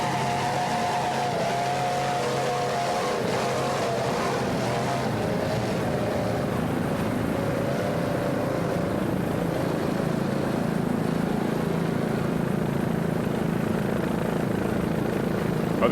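A racing powerboat with twin 500-horsepower Mercury engines roars steadily at speed in an offshore race, a loud continuous engine drone with a slowly shifting pitch that never pauses.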